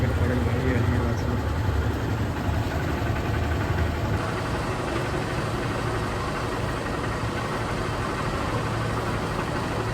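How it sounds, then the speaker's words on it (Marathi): A motorcycle engine idles with a low, steady rumble that holds evenly throughout, with no revving. "तर बाईक गरम व्हायला ठेवली"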